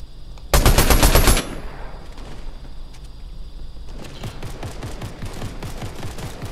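A new gun fired in Fortnite Chapter 5 gameplay, a loud rapid burst of automatic fire lasting under a second, followed by softer scattered shots and rumbling game sounds.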